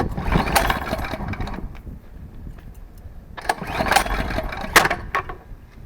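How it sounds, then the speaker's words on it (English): A snowblower engine is pull-started by its recoil cord in repeated tugs, each pull bringing a loud, close burst of rough mechanical rasping and sputtering that fades between attempts. "I can't start her anymore through the puller."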